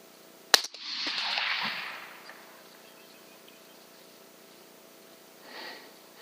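A single loud rifle shot cracks out at a wounded hog during a hunt in north central Texas, followed by a long fading echo rolling across open country, then a faint distant rustle.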